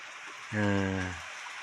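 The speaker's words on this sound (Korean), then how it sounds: "비가 그냥 쫙 쏟아지고 있네요. 아주 시원하게 쏟아지고 있습니다." Heavy rain pours onto a tin roof in the countryside, a steady dense hiss running throughout, with a brief voice rising over it.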